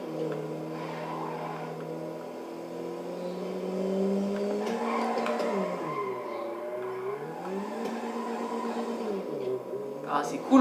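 In a racing video game, a car drifts with wavering, sustained tire squeal over a droning engine that rises and falls through the slides, while someone talks over the game sound.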